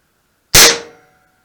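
A homemade gun firing a 6mm Flobert blank that launches a plastic ball, one sharp, loud, close report with a short ringing decay, set against silence.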